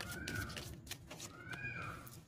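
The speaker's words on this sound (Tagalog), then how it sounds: "pasensya na guys sa pusa" A cat meows twice in a long drawn-out way, fairly close but quiet, over a steady indoor background during a tarot horoscope reading.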